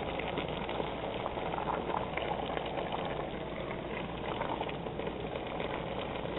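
Slovak-style cabbage rolls simmer in a pot of water after more than an hour of cooking, giving a continuous bubbling rumble close up with no talking over it.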